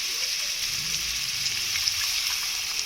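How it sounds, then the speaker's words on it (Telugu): Water pours steadily into a pan with a soft continuous hiss and gush, close by, with no other sounds; the water is previously boiled, added while making kakarakaya (bitter gourd) pulusu. "ఉడకబెట్టిన వాటర్ ఉంది కదా, ఆ వాటర్ వేస్తాము."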